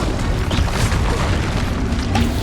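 A fire spell bursts in a Harry Potter video game, giving a loud, dense, low rumbling whoosh of flame that fills the short moment without letup.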